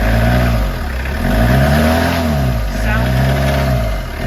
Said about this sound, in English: You're gonna give it a little rev?